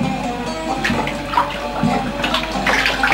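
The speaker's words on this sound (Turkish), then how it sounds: "suyu hoş diye dök bakalım." Water is poured over a person's head, giving a steady, close splashing and gushing that swells and runs on for several seconds with no talk.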